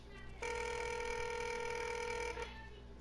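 A telephone rings steadily in the background, one sustained electronic ring lasting about two seconds at moderate distance, with no talk over it.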